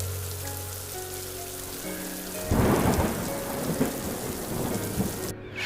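A thunderstorm with heavy rain plays as a sound effect in an animated story: a low rumbling backdrop bursts midway into a dense, loud wash of pouring rain with rolling thunder underneath.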